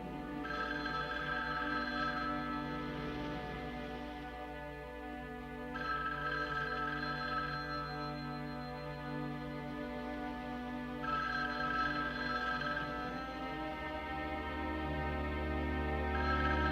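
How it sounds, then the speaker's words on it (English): A telephone rings repeatedly in long, evenly spaced bursts, heard over sustained tonal background music, with no speech. "Answer the phone."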